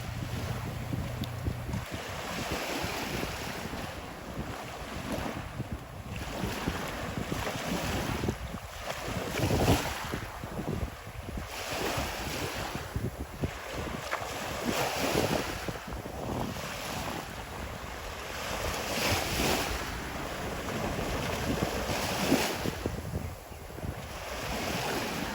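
Waves wash in continuously on a Florida beach at low tide, with gusty wind buffeting the microphone throughout; a steady, moderately loud surf roar with no voices.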